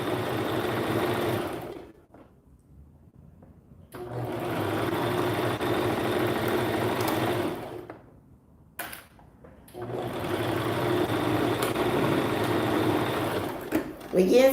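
A sewing machine stitches a seam on a beginner summer top, running in three steady bursts separated by short pauses for back stitching, loud and close with no talking over it.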